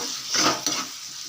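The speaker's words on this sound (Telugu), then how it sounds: "టమోటాలు వేసుకొని ఒకసారి బాగా కలిపేసుకుందాం." Tomatoes frying in a pan are stirred with a utensil over a steady hiss, a short scrape-and-clink passage rising briefly above the sizzle, close and without voices.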